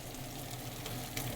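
Mushrooms go into a hot pan for a Loco Moco, giving a steady close sizzle and crackle of frying with light stirring, no voices.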